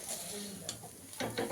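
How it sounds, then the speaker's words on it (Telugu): Noodles are stirred in a pan at home, with short scraping and tossing strokes close up over a faint sizzle in the background. "ఇట్లా కలుపుతున్నా ఇప్పుడైతే"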